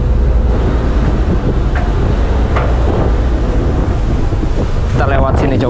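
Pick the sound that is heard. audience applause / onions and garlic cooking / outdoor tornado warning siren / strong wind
strong wind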